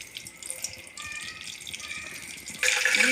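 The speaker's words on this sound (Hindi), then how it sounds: "सबसे पहले हम डालेंगे इसमें ऑयल की 1 प्याली" A cup of cooking oil poured into a pan for a cauliflower dish, a steady liquid pour with a brighter splash swelling toward the end.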